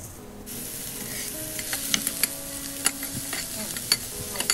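Onions with crushed chopped ginger and garlic sauté in a hot pan, a continuous close sizzle broken by soft stirring scrapes and occasional sharper ticks from the spoon. No one talks.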